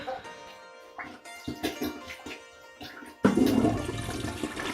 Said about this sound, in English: Did it flush?